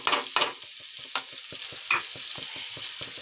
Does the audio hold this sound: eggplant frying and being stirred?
yes